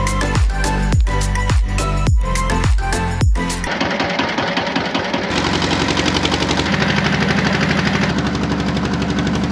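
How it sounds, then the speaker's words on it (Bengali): The engine of a red boat on the way to the Sahasradhara 2 waterfall in Sitakunda runs loud and close, a steady rapid mechanical chugging after a few sharp knocks at the start. "আমরা আমাদের সেই কাঙ্ক্ষিত লাল বোটে উঠতেছি আমাদের সহস্রধারা 2-এ যাওয়ার জন্য"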